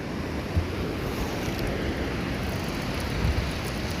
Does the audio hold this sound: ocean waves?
yes